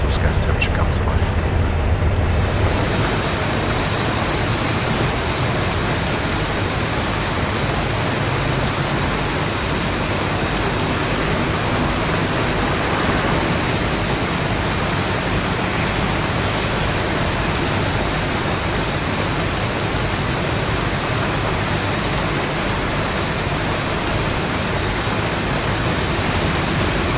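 Engine number 1 of a jet airliner in X-Plane 11 spools up in a steady, loud, broadband roar with a faint rising whine, continuous throughout, with a voice talking over it.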